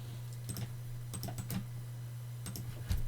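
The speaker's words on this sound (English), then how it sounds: "So let's type gedit" Typing on a computer keyboard while entering a command on a Linux desktop, heard as scattered bursts of quick key clicks close to the mic over a steady low hum, with pauses between the groups.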